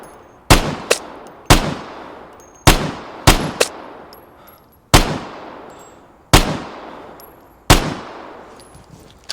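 Seven or eight sharp, loud gunshots ring out in the video game Vigor, fired singly and in quick pairs, each with a long reverberant tail, and no one speaks between them.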